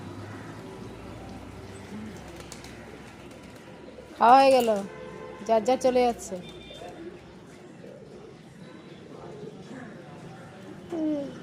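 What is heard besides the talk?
pigeons cooing while feeding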